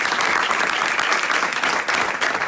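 Steady applause from an audience at a book presentation in a FNAC store in Madrid, a dense, continuous clapping crowd close by with no talking over it.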